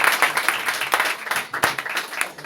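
Church congregation applauding, a brief burst of steady clapping from many hands filling the room.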